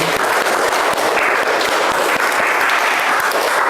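Students in a classroom clap their hands together, a loud, dense, even burst of applause from the whole group that holds steady throughout.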